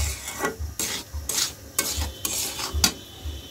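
Semolina being stirred in a pan over heat, a spoon scraping the bottom in steady strokes roughly twice a second, close and crisp with a faint sizzle between scrapes.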